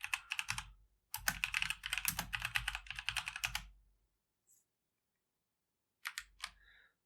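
Bursts of keyboard typing, close and clear, with rapid clicking keystrokes in two runs, a pause, then a short final flurry of keys, typed while entering a systemctl command on a Red Hat Enterprise Linux 9 computer.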